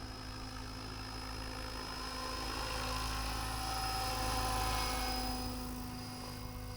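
An XLPower MSH Protos 800 Max V2 RC helicopter in flight at high head speed, a continuous loud turbine-like whine and rotor drone with steady harmonic tones, swelling slightly as it passes nearer and then easing off.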